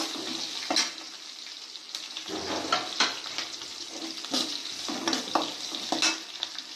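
Mullet fish frying in a pan over a low flame, a steady soft sizzle broken by several brief scraping stirs, close and moderately loud with no talking.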